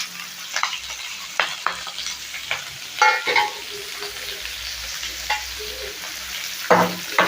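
Onions, curry leaves, fennel seeds and green chillies fry in a pan, giving a steady moderate sizzle with scraping stirs and occasional spoon knocks, no talking.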